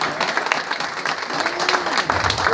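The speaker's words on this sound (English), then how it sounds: "Give these guys a round of applause." A party crowd claps for veterans at a merchants' association anniversary celebration, with brisk applause and faint voices mixed in throughout.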